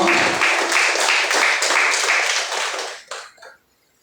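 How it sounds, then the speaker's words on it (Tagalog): A worship congregation claps loudly in a steady shared rhythm, then the clapping breaks off abruptly into a few scattered final claps and silence. "malakas na palakpak sa Panginoon."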